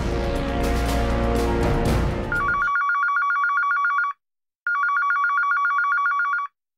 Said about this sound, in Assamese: এইটো ফোন বাজিছে যেতিয়া কিবা দরকারি কথাই হব।